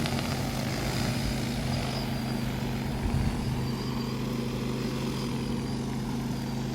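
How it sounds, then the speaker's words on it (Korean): An agricultural drone spraying pesticide over fields drones with a constant buzzing rotor whine at moderate distance, steady and unbroken, with outdoor background noise and no talk. "저게 지금 약하는 거야 드론으로"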